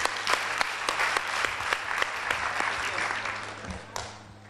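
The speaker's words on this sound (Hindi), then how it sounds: "चलो उदयन के लिए जोरदार ताली बजाओ" A group applauds for Udayan at a Vedic spiritual gathering, brisk clapping from many hands close by and fairly loud, holding steady before a last few claps trail off, with faint voices underneath.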